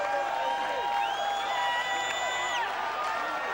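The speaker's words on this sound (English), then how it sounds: "The crowd just going nuts here in Colchester." A crowd cheering at the 1994 World Ultimate frisbee Open final between the USA and Sweden in Colchester, a steady roar of voices with whistles and whoops running underneath throughout.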